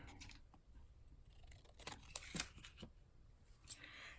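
Scissors trim paper ephemera for a collage, giving a string of short, close snips and crisp paper rustles at a quiet, tabletop level with no talking.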